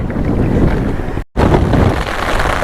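Strong wind and heavy rain buffet a small boat on a stormy river during hilsa fishing, a loud roaring gusty rush battering the microphone with one brief dropout, no talk.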